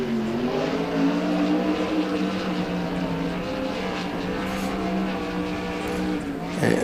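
Race car engine idling then revving at Port Royal Speedway during the Tuscarora 50 sprint car event, a steady droning engine note with rising harmonics, loud and close throughout.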